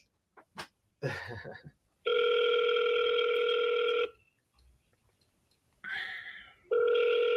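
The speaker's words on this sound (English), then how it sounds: "I'm calling another lead right now." An outgoing phone call to a real estate seller rings on the line: a steady electronic ringback tone sounds in long bursts with gaps between them, loud and clear, after a brief clatter at the start.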